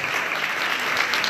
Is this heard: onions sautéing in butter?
no